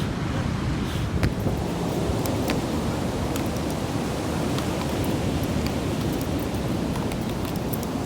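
A storm blows in at sea, strong wind buffeting and roaring with waves and surf crashing in a continuous loud, rough wash, occasional gusts hitting the microphone.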